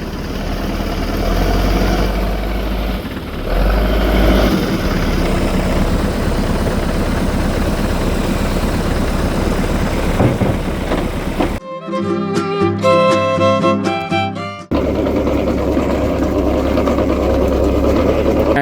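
A tractor and a JCB excavator at work on a farm, heard as a steady low rumbling engine drone that is briefly cut by a few seconds of music before it resumes.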